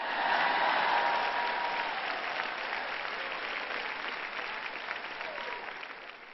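Audience clapping at a church gathering, dense sustained applause from a large crowd, loud at first and slowly fading over several seconds; no speech.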